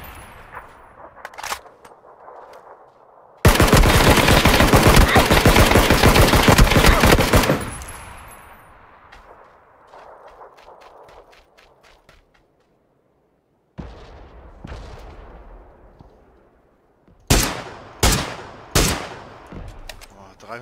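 Gunfire in the PUBG video game on the Karakin map: a long, loud automatic burst, then scattered shots and several sharp, closely spaced single cracks near the end.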